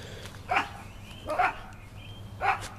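A dog barks three times at a distance, single sharp barks spaced about a second apart outdoors in a yard, over a steady low background hum.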